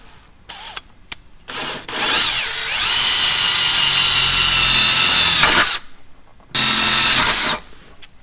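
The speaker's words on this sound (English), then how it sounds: "then we're going to drill some holes" A power drill bores pilot holes during a dual battery install in a Toyota 200 Series, whirring loud and close in two bursts, a long run and then a shorter one, with short clicks and pauses around them.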